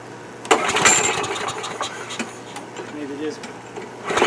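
A free Murray Quantum walk-behind lawn mower engine is pull-started, with short, sharp cranking bursts near the start and again at the end and a voice talking between the attempts.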